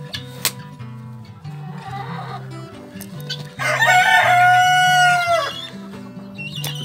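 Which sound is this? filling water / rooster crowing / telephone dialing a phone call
rooster crowing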